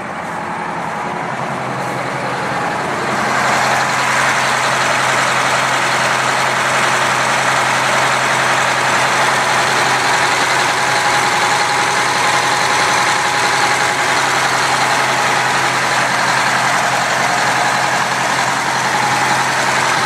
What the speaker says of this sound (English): let you at least listen to that engine run